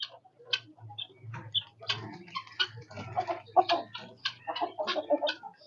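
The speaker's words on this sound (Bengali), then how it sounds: "এই যে ডান পাশেরটা তিতির আর বামেরটা কাদরনাথ।" Guinea fowl and Kadaknath chickens in a small farm pen keep up a rapid, clicking, ticking run of calls and clucks at moderate volume, with no talking.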